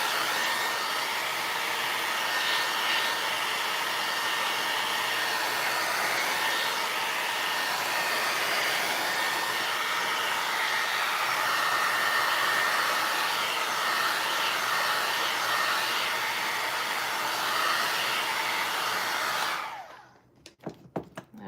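A hair dryer blows continuously at close range over a spring paper book stack craft, holding a loud, even rushing roar for about twenty seconds before it switches off and a few handling clicks follow.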